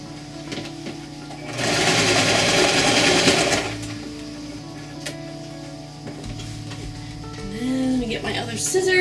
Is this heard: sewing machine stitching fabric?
yes